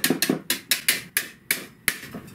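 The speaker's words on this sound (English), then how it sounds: "Whisk that in." A whisk beats tuna pasta salad dressing with capers in a bowl, giving a quick run of about eight sharp, evenly spaced strikes, close and fairly loud with nothing else over it.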